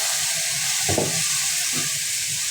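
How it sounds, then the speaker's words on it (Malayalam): A cup of water goes into a Kerala-style chicken curry masala in a hot pan, and a loud, constant sizzle and hiss carries on throughout, with two brief splashy bursts. "ഇതിനകത്തേക്ക് ഒരു കപ്പ് വെള്ളം ഒഴിക്കണം കേട്ടോ"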